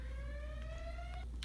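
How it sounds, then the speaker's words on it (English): An indoor fire alarm sounds with a steady high electronic tone, slowly rising in pitch before breaking off near the end, faint and distant-sounding with no voices over it. "If you hear that, the fire alarm is going off for like no reason."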